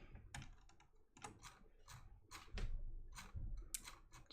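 Typing on a computer keyboard during a live coding session: irregular bursts of soft, close key clicks and taps at low volume, with no talking.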